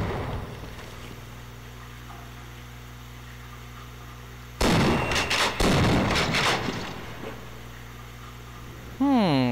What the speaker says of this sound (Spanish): ¿Qué tal si yo lanzo una granada ahí?